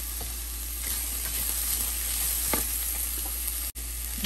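Capsicum and carrot fry with onions in a pan for quinoa upma, a steady close sizzle with occasional stirring scrapes and no voices.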